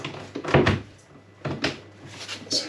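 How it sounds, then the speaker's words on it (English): Cupboard door hinges clipping into place during finishing work in a new house, several close wooden knocks and clicks in short bursts with quiet gaps between. "so you can see a hinge clipping in"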